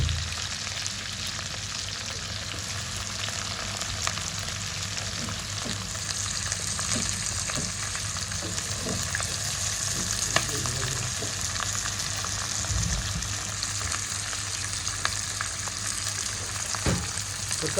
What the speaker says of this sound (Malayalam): ഓയിൽ വെച്ച് കുറച്ച് പട്ടയിട്ട് കുറച്ച് കറിവേപ്പില കുറച്ച് ഉൾപ്പെടും.